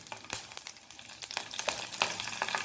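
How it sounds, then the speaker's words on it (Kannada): Mustard seeds crackling in hot oil with green chilli for masala dosa filling: a brief, faint, close run of rapid pops and spits over a soft sizzle. "ಸಾಸಿವೆ ಚಟ್ಪಟ ಹೇಳ್ತಾ ಇದೆ"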